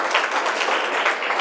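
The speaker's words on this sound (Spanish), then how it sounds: "Un aplauso de nuevo para Luis" Applause from a seated audience at a panel discussion on Latin American politics for a guest named Luis, with brisk, dense clapping that stays fairly loud and even throughout.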